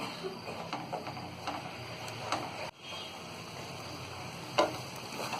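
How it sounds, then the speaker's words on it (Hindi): A spoon stirs ground spinach into a simmering palak paneer gravy in a pan, soft scraping and gentle sizzling with a few light knocks, steady and close. "और ये पिसी हुई पालक को अब हम इसमें डाल देंगे, मिक्स कर देंगे।"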